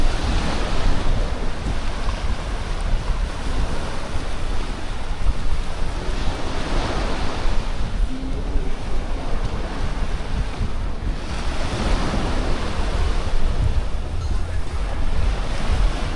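Surf rolls in and wind gusts across the microphone at Martina Beach Club in Playa del Carmen, a continuous loud wash of breaking waves with rising and falling swells and no voices.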